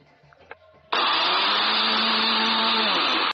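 A blender whirs strawberries with half a glass of milk, kicking in abruptly after a few faint kitchen clicks and running as a loud, steady, close motor whine until it cuts off.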